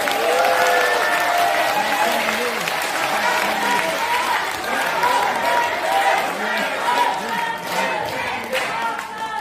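A crowd at a political debate forum claps steadily for several seconds, a broad wash of applause with murmured voices and chatter mixed underneath.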